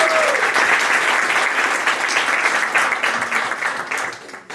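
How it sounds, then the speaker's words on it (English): Steady, dense applause from a seated audience at a film and TV panel at the Black Image Center fills the room and then tapers off toward the end. "give a round of applause for the Black Image Center"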